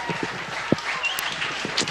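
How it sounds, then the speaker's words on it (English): A crowd at a high school baseball game applauds as the pitcher leaves the field, a moderate, steady patter of clapping at some distance with a few faint voices mixed in. "Cassina will trot off with a nice round of applause"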